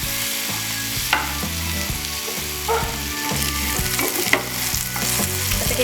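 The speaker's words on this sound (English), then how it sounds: "Mixing until it eventually kind of smells like onions," Chopped onions sizzle steadily in a hot pan while being stirred for a carbonara, with occasional scraping knocks of the spoon against the pan over a continuous frying hiss.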